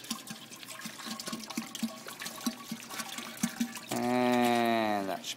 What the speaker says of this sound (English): You're going to pour water in the top like we showed you before in the first engine